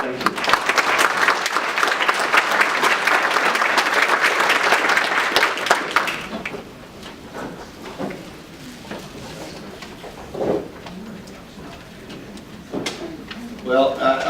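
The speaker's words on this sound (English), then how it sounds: "So please give him a round of applause." An audience applauds at a community gathering, loud dense clapping for about six seconds before it thins out into scattered claps, murmurs and room noise.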